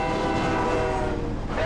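A train horn sounds near a rail line at a roadside wreck scene, a loud sustained tonal blast over the rumble of rolling rail cars, close by with no talking.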